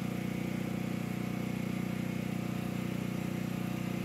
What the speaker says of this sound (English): you can hear the hum of the generator in the background